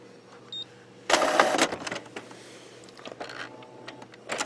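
A Canon Pixma inkjet printer runs a nozzle check page, giving a burst of loud mechanical whirring and rattling followed by intermittent clicks, feed noises and shuttling sounds close by.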